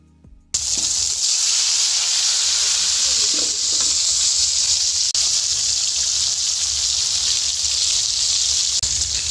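Eggplant pieces fry in oil left over from frying fish. A sudden loud, dense hiss of sizzling begins and then holds steady and continuous close by.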